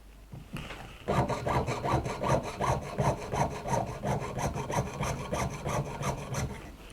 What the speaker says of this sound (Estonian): Järgmiseks siis, et hakkan saagima siis rõngaid, mis tuleb müntidele külge joota